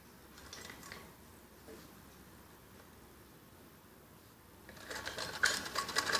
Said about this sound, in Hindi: और दोनों कंधों की पाइपिंग पे ऐसे ही सिलाई लगाई जाती है।